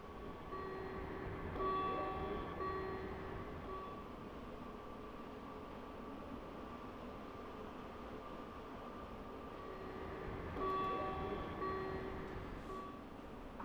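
Train running on the Mittenwald Railway in a train simulation, a steady low rumble of wheels and motor with a constant tonal hum that swells twice, faint and continuous with no voices.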